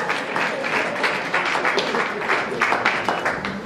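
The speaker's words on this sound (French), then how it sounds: "Est-ce qu'on peut applaudir bien fort pour l'artiste?" A crowd at an awards ceremony claps loudly and steadily for several seconds, a dense wash of applause with no break.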